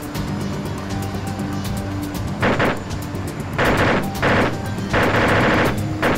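Bursts of automatic gunfire from the video game Arma 2 with the DayZ mod, several rapid volleys of shots in close succession over steady background game noise, with sharp loud bursts near the end.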